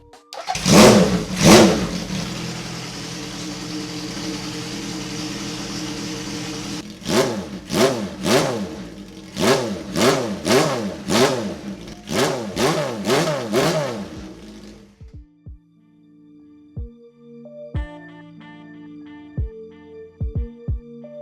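A Honda CB750 motorcycle, rebuilt after a crash, fires up with a loud start, then blips through a series of sharp rapid revs that rise and fall close by, before the engine cuts and only faint mechanical ticks remain.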